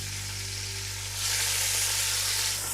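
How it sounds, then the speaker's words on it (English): Pork ribs brown in a hot pan with a steady, dense sizzle and a low hum underneath. The frying swells noticeably louder partway through and holds there. "I have the first batch of the pork browned, just like that"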